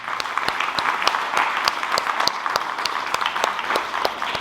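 Audience applause at a school graduation ceremony, a steady wash of many hands clapping at even volume throughout, with no voices over it.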